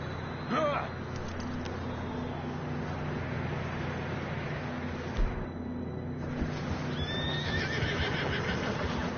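Horses in Red Dead Redemption 2 give a couple of whinnies, one early and another near the end, over steady clip-clop hooves and game ambience, moderately close and loud.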